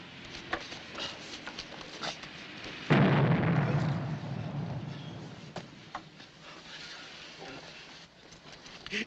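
A single loud cannon blast booms in an old Three Stooges comedy short and rumbles away over several seconds, with faint voices and scattered noises around it.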